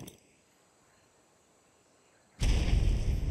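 A grenade explosion in the video game ARK on the Valguero map: a quiet stretch with insect chirps is broken by a sudden loud blast whose heavy rumble sustains to the end.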